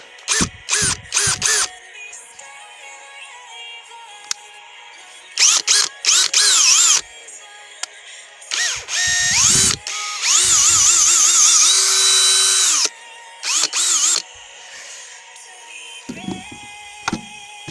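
A TC-CD 18/35 Li cordless drill whirs in repeated short bursts, its clutch ratcheting as it slips, with longer high-pitched runs in the middle and pauses of silence between them.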